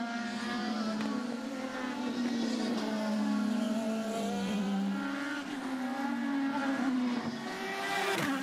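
IndyCar race cars at the Mid-Ohio Sports Car Course during a 2011 race, engines howling loudly and continuously as cars pass, with pitch rising and falling through gear changes and overlapping cars.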